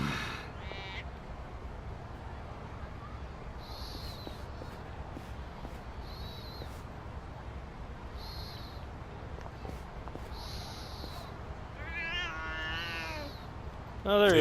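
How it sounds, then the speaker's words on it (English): Faint ambient outdoor sounds in the video game Lost Judgment: The Kaito Files, with sparse chirps and calls, then a short distant cat meow near the end. "I swore I heard a cat."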